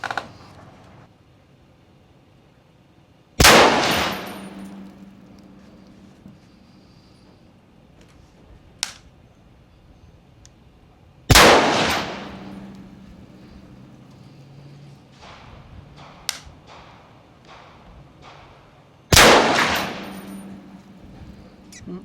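Three sharp, loud rifle shots from a PSA Sabre M110-style precision rifle ring out at a slow, spaced pace during range testing, each with a ringing echo that fades before the next.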